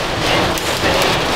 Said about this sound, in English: Oh, you can see the hail on the window.